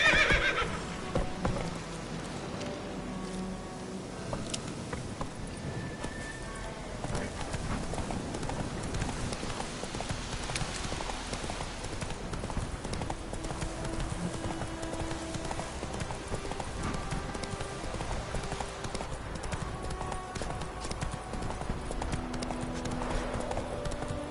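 A horse gallops in The Witcher 3, its hooves clopping in a steady rapid rhythm under game ambience with rain, faint and continuous for the whole stretch.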